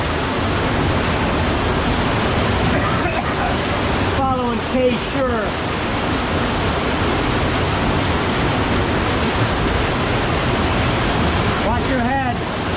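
River water rushes steadily along the Thunder River trail in the Grand Canyon, a broad, constant roar close by, with brief voices speaking over it now and then.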